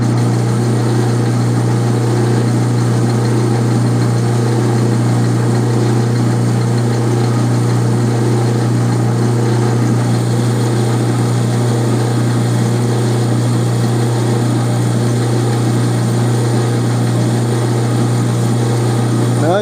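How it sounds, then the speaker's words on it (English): A metal lathe with an Aloris tool post cuts raw bar stock for lawn equipment parts, using a boring bar flipped to the other side of the post. A loud, steady motor hum and machining drone run unbroken throughout. "I flipped a boring bar around to ride on this side of the Aloris tool post"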